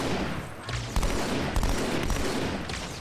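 Rapid gunfire crackles in Halo 2 Anniversary as a Jackal sniper and surrounding combatants fire during a heroic-difficulty firefight, with sharp repeated shots and bursts stacking over a busy, loud battle.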